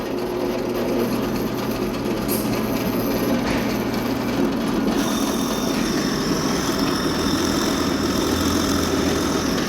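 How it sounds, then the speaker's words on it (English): A drill press runs steadily in a workshop beside a scroll saw, giving a loud continuous motor drone with a constant hum throughout and no talking. "Once the drill press is on like this, you'll want to slowly pull down the lever."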